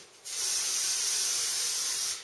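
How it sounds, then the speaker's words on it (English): Cooking spray hisses steadily onto a bread tin for split tin bread, one continuous close burst of about two seconds with no talking. "So we're going to spray this pan down really good."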